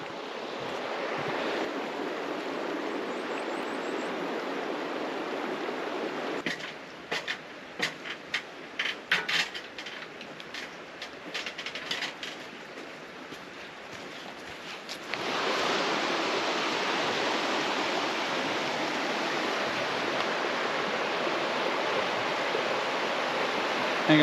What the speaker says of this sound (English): The river is lovely though.